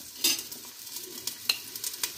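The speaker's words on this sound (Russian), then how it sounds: "Накаляется масло, друзья. Отправляем лук." Soft sizzling of onion frying in hot oil, with a few light stirring scrapes and clicks against the pan.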